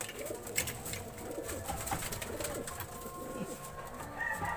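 A racing pigeon coos softly in repeated low, rolling phrases, fairly close, over a faint outdoor background with scattered clicks.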